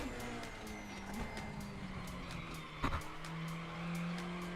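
Race car tires skidding and squealing through oversteer in the RaceRoom racing game, a sustained tonal screech over engine drone with a brief harder scrub near the end.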